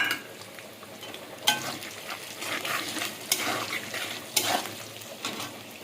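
Bay leaf, dry red chili and panch phoron spices frying in hot oil for khichuri, a soft continuous sizzle with a few sharper crackles and spoon scrapes as each goes into the pan.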